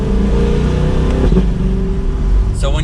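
A C8 Corvette Stingray's exhaust roars loudly and steadily as the car accelerates, a continuous engine drone with a quick shift near the end, among trees that echo the sound.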